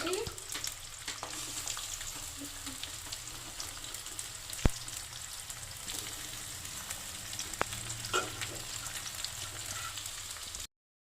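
Onions fry in a pan for chicken biryani, giving a steady close sizzle with occasional stirring scrapes and a couple of sharp clinks, no talking over it.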